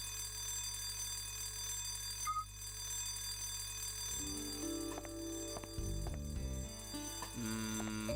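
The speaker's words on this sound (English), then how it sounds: "the alarm's ringing." An electric fire alarm bell rings steadily in a building in The Last Window: The Secret of Cape West on the Nintendo DS, a constant tone with no talk as synth music notes come in partway through.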